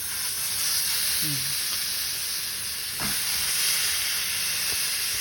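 Steady loud sizzling of grilled beef frying in a hot pan, a constant hiss throughout with a few faint clinks and scrapes.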